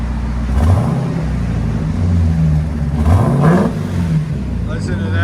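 A Jeep Trackhawk with a 6.2L supercharged V8 and aftermarket exhaust revs up in two loud rising blips with a deep rumble and supercharger whine, settling back to a burbling idle between them, with a voice speaking briefly over it.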